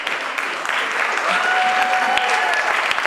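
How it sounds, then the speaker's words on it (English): An audience at a masterclass gives a sustained round of applause, dense steady clapping filling the full stretch at even loudness, with faint voices underneath. "Give them all a round of applause."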